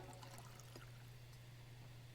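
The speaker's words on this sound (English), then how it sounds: "Pour myself some water." Water poured into a glass, a faint trickling stream over a steady low electrical hum, with no talking.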